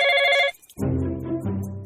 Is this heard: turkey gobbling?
no